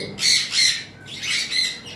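A cockatiel gives two or three harsh, shrill squawks in quick succession, close and fairly loud, with no talking over them.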